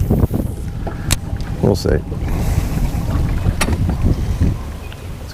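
Wind buffets the microphone steadily on a boat during a fishing trip, with the hull and water rumbling underneath and someone speaking briefly over the noise.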